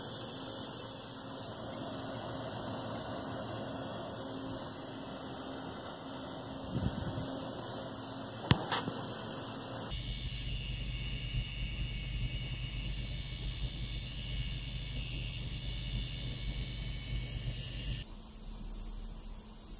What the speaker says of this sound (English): here's a few examples of what coil whine can sound like.